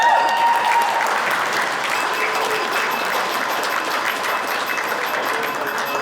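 Wedding guests give a sustained round of applause at a reception, many hands clapping loudly and evenly nearby with a few faint voices and whistles underneath.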